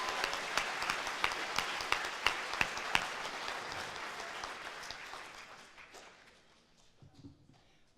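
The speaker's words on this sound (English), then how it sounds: "So a big round of applause for all of our students for making this happen." A school crowd at a military appreciation day event gives the students a round of applause, moderately faint dense clapping with a few sharp claps, fading away over the last few seconds.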